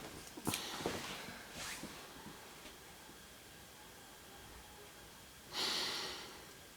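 A few short, sharp sniffs through the nose, spaced apart against quiet background noise, with a longer breathy sniff near the end, as a person smells a scent made to resemble old and new books.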